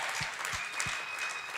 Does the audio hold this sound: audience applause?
yes